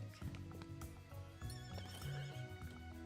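A horse neighs in a stable yard, whinnies rising and falling over several seconds with hoof clip-clops and soft thuds around it, fairly close.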